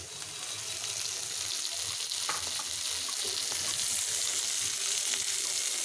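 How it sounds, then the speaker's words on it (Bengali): Pabda fish roe frying in a pan with chopped coriander leaves, a steady close sizzle with faint crackles running throughout, no talking. "দেখতেই পাচ্ছেন এটা ভাজা ভাজা হয়ে যাচ্ছে"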